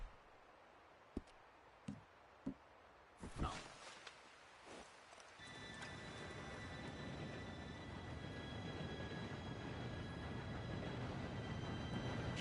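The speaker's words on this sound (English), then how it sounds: "Train should be here any minute." An approaching train in Red Dead Redemption 2, a low rumbling roar that swells steadily and fills the scene after a few scattered thumps and footsteps, with a faint tonal whine above it and occasional voices.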